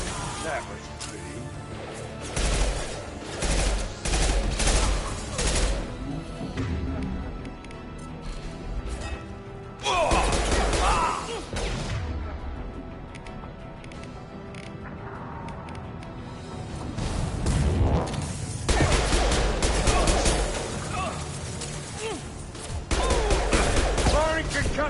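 Mass Effect 2 combat with bursts of gunfire and a heavy concussive blast, crashes and impacts recurring through a busy battle, with voices talking across much of it.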